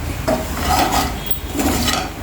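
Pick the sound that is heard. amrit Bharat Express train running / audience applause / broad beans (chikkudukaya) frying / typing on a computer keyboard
broad beans (chikkudukaya) frying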